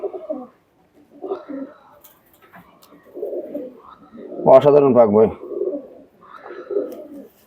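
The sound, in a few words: Pakistani teddy pigeons cooing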